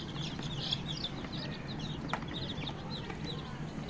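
Many young poultry chicks in a farm brooder peep with a flurry of short, high chirps overlapping one another, faint and somewhat distant over a low background hum.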